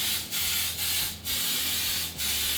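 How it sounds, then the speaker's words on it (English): Four short hissing spritzes of olive oil spray onto coconut shrimp for the air fryer, evenly spaced, close and fairly soft, with no talking. "just a little bit more of olive oil spray on top"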